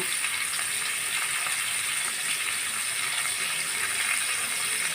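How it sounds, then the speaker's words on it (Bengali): Fish rubbed with salt, turmeric and oil fries in a pan for a spicy fish fry, giving a steady, dense sizzle with no pauses across the whole stretch, close and fairly loud. "মাছগুলো দিয়ে আমি একটু সময় নিয়ে এপিট ওপিট করে লাল লাল করে ভেজে নিব"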